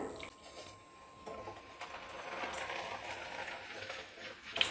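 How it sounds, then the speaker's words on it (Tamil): Soft, bubbling hiss of poha flakes deep frying in oil, faint and steady, with a slight rise midway and a small clink at the end. "கொஞ்சம் கொஞ்சமாக நான் வந்து எண்ணெயில் போட்டு பொரிச்சு எடுத்துக்கிறேன்"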